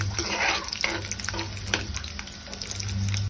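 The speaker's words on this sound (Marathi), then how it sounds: "लसूण आपल्याला परतवून घ्यायचं आहे थोडा रंग बदलेपर्यंत" Garlic sizzles in a hot pan while a utensil stirs and scrapes it, a steady crackling fry broken by repeated close scraping strokes.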